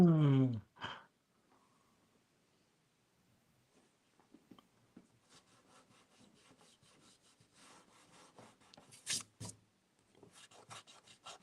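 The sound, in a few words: pencil drawing on paper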